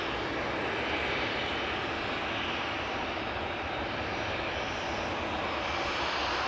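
Steady, loud roar of a large airliner's engines on the center runway at Amsterdam Schiphol Airport, a dense continuous rumble without pause, heard from a moderate distance outdoors.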